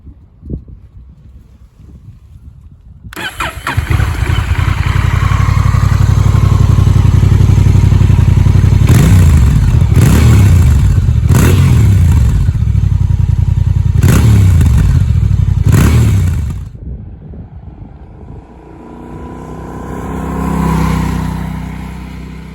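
A CMX1100 motorcycle engine fires up after a few quiet seconds and settles into a loud, steady idle. Five sharp throttle revs rise and fall before it shuts off, leaving faint rumble and wind noise.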